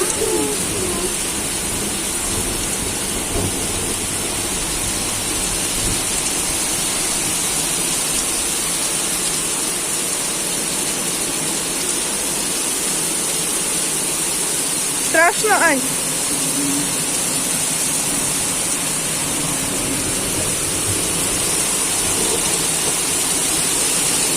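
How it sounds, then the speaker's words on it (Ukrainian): Steady summer rain pours outdoors, a constant broadband hiss throughout, with a brief bird call breaking through near the middle. "Здається, стихає дощик."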